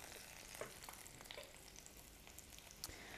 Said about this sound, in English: we're going to add the pancetta, so it starts to get crispy.